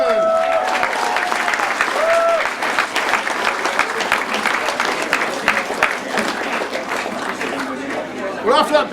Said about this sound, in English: can we have a big round of applause now for the winner